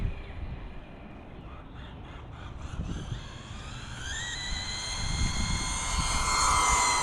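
A Losi Sprint RC car whines past, its motor pitch climbing steadily as it speeds along, fairly faint over outdoor background rumble with a few faint clicks.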